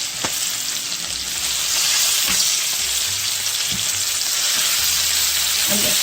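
Chicken pieces browning in butter in a pan for a dinner of chicken scampi pasta, a loud steady sizzle and crackle with faint spatters, close up.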